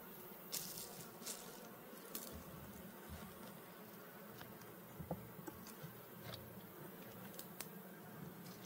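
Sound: bees buzzing around a Layens hive

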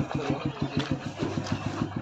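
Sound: motorbike engine idling

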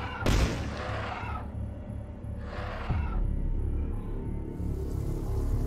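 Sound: weapon firing and exploding in video game Dusk

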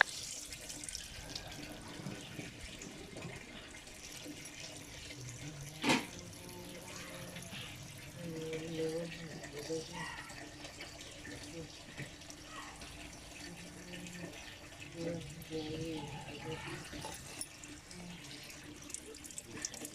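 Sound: water poured into lamb lungs and liver

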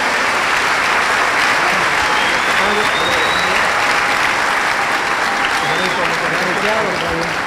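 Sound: applause in church

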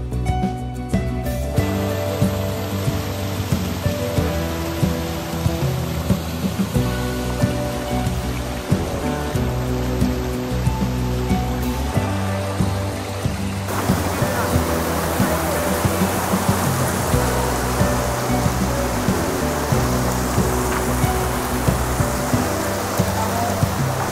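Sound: Bada Aapkhol waterfall

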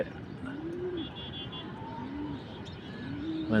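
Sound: pigeons cooing

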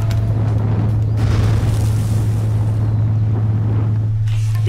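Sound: Sasuke blowing fire in video game Naruto: Rise of a Ninja

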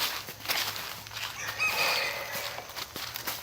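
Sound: wild junglefowl clucking at a forest temple

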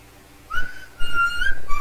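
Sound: person whistling loudly

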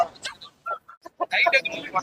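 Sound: rooster

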